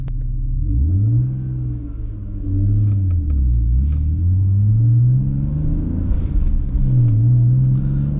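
A BMW E46 with an engine misfire, heard from inside during a drive: a loud, low engine drone that rises and falls as it revs, with a rough, uneven note and no talking.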